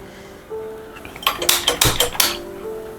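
A steel kadai set down on a gas stove gives a burst of metallic clanks and rattles lasting about a second, close and fairly loud against a quiet kitchen background.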